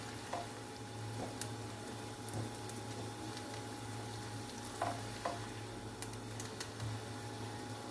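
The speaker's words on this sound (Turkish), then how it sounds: "Bunları da 1-2 dakika kavuralım." Bulgur being toasted and stirred in a pan for green lentil bulgur pilaf, a soft steady sizzle under intermittent scraping and clicking from the spoon, quiet and close, with no talk.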